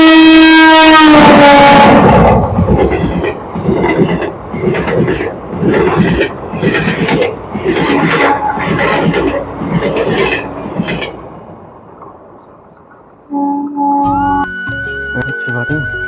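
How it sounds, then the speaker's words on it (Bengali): A train approaches with a loud horn blast, then passes close by with a rhythmic, rolling clatter of wheels that fades, followed by a brief tonal sound at the end. "এই যে ট্রেন আসতেছে এখন।"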